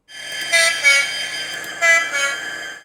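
A model train horn from a Hornby TTS sound decoder through an upgraded speaker sounds in two short pairs of toots, electronic and buzzy, with a steady hum underneath between blasts.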